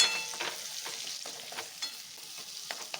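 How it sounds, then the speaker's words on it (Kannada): Chopped onions with green chillies fry softly in a pan for a dhaba-style okra gravy: a quiet, steady sizzle broken by several light scrapes and taps of a stirring spoon. "ಈರುಳ್ಳಿ ಸ್ವಲ್ಪ ಫ್ರೈ ಮಾಡ್ಕೊಳ್ಳೋಣ."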